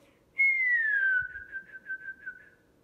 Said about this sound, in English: Then he gave a different kind of whistle,